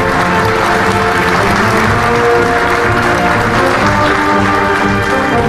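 Crowd applause at an Armed Forces Day ceremony, loud and continuous, a dense wash of clapping from a large outdoor audience with no break across the stretch.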